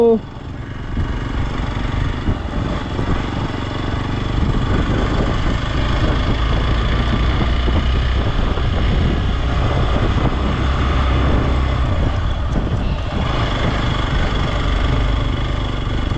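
A motorcycle engine drones steadily and loudly throughout while the bike is ridden off-road over gravel and dusty mountain tracks toward Tawang.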